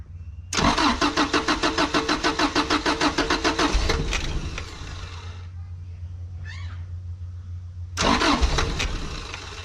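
A Mazda Bongo van engine cranks with a rapid, even starter rhythm for about three seconds, fires briefly, drops to a rough quiet idle, then cranks loudly again near the end.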